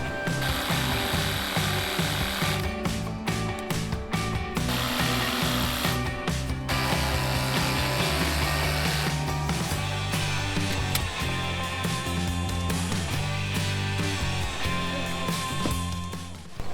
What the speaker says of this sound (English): I have a CRAFTSMAN 20-bolt cordless jigsaw